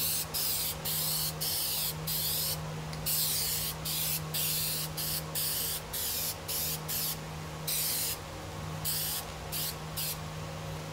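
Plasti Dip aerosol spray applied in a light coat to a Buell XB9SX motorcycle tank cover, a series of close, sharp hissing bursts of varying length separated by short pauses, with no talking.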